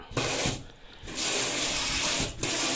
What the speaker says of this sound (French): On t'allume l'eau, ça coule pas, tu tournes, ça coule.